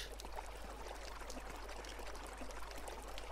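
Steady, faint trickling and dripping water echoes through a temple environment in the Dreams PS4 game, a continuous liquid wash with no voices.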